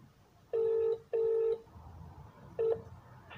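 Phone keypad dialing tones sound while a call is placed, three clear beeps of differing length with a short pause before the last, faint room noise beneath and no talking.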